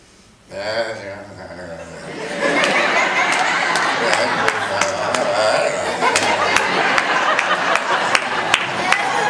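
A storyteller's voice imitates a porcupine's noises as a muttering, chattering babble, continuous and close with sharp clicks scattered through it.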